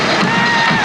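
A large basketball arena crowd roars in a loud, sustained swell of cheering during a 1995 NBL game between the Melbourne Tigers and Perth Wildcats, heard only briefly.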